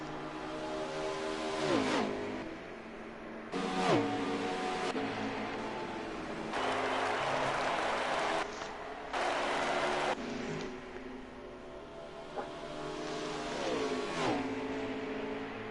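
Race car engines in NASCAR Heat 5 at Pocono drone and whine continuously, with brief louder surges as cars pass close, while a commentator talks over the sound throughout.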